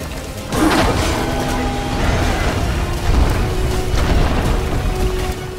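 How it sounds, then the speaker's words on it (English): Slow-motion explosions in the video game LEGO Batman 3: Beyond Gotham, a deep rumbling boom that swells and lingers with low mechanical rumble and scattered crackles across several seconds. "Slow-mo explosions."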